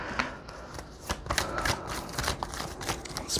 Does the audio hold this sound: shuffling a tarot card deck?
yes